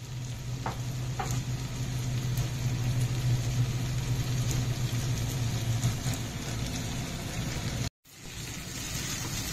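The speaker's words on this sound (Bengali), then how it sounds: "পেঁয়াজগুলো খুব ভালো করে ভাজা হয়ে গেছে।" Onions sizzle steadily in a hot pan while cooking a Champaran-style meat dish, a close, continuous frying hiss with occasional stirring scrapes, then an abrupt cut and a quieter continuation.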